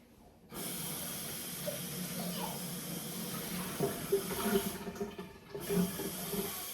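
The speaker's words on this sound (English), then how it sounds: "Now I'm going to just top it up with a little bit more water." Water from a tap runs steadily into a bottle to top up a homemade CO2 mix for a home aquarium, a continuous close hiss with small bubbling splashes and no talk.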